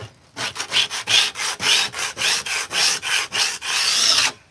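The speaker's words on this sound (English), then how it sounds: "I'm literally just removing the loose stuff that's going to come off easily with the scraper." Steady rhythmic rasping strokes of a scraper removing loose paint from a wooden door, about a dozen back-and-forth passes, close and loud with no talking.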